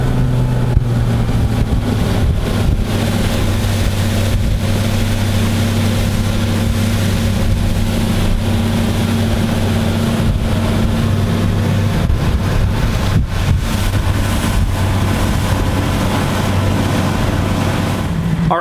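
A Mercury Pro XS 200 V8 four-stroke outboard motor runs steadily on a boat, a loud constant engine drone with wind and water noise across the whole stretch.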